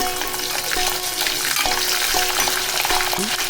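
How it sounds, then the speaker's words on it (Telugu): Garlic sizzles and crackles steadily in hot oil in a pan for amla pickle, a loud, continuous frying hiss with a few small clinks of stirring and no voices. "వెల్లుల్లిపాయలు వేసిన తర్వాత"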